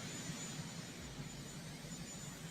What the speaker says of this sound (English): now we're going to watch him take off in this big-ass helicopter